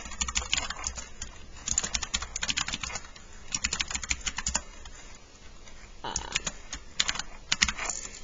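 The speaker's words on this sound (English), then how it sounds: "I'll just type a couple of names" Names typed on a computer keyboard, rapid clicking keystrokes in quick bursts with a short pause midway, close and clear with no talking.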